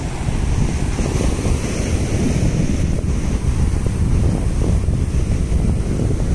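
Steady, loud roar of surf at Maravanthe Beach with continuous wind rushing across the microphone, waves crashing close by without pause and no voices.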